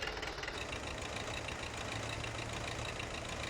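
Tractor engine in Farming Simulator 2015 running at a steady idle after starting, a dense continuous drone with a knocking low rumble, loud and close throughout, no talk.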